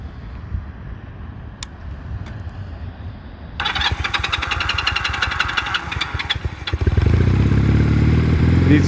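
A custom bobber-style 1989 Honda Rebel CMX 250 hardtail motorcycle cranks, catches and starts with choke, rapid loud clattering turning into a steady rough running engine close by.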